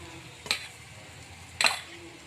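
Smashed idli is stirred with ginger, turmeric and masala spices in a pan. Two sharp scraping strokes about a second apart rise over a low, steady sizzle.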